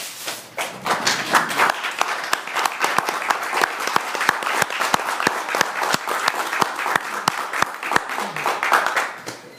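An audience applauds at a city council meeting in Fulshear, a dense burst of many hands clapping that swells quickly and holds steady for several seconds before thinning out, with some murmured voices underneath.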